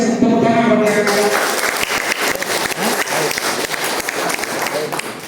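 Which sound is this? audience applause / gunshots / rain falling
audience applause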